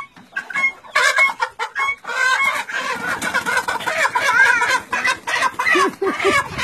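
A chicken clucks and squawks agitatedly up close, rapid repeated calls with flapping and rustling, fairly loud throughout.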